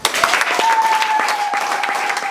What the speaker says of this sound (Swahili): Mpe Yesu makofi